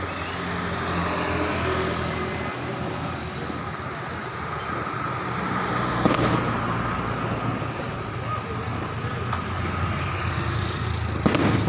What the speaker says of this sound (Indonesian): walaupun ada suara petasan, Bang Api ini hanya lokal di tempat saya merekam video anak-anak muda